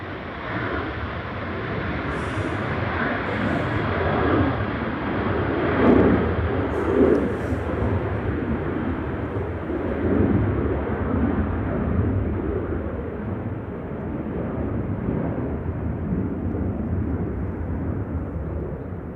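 A Jet2 airliner departing Manchester Airport on a gusty day sends a continuous broad jet roar that swells gently and holds steady for the whole stretch, loud and near, with a few faint high chirps above it.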